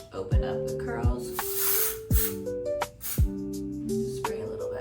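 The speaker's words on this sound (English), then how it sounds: "Take my texture spray and I just open up the curls." Texture spray misted onto curled hair in a salon: several short aerosol hisses come in bursts, close and clear, over background music with a voice speaking.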